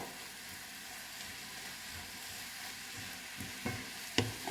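Mushrooms frying for lasagne, a soft continuous sizzle in a pan with a few sharp utensil knocks near the end as they are stirred.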